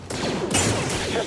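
Blaster gunfire in the video game Star Wars: Jedi Fallen Order crackles in a rapid, dense volley of bright zapping shots, loud and close, over a busy battle backdrop.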